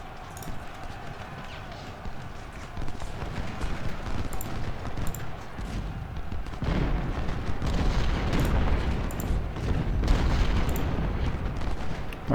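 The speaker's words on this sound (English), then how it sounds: "Let those cannons again. Cannons go again," Low booming video game cannon fire rumbles repeatedly over a dense, noisy battle background, heavy and continuous with occasional sharper cracks.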